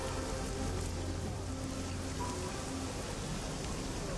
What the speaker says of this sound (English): Despite the wind and rain pelting Heoi